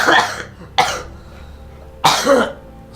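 Three harsh, close coughs in quick succession, the last a double burst, loud against a quiet room.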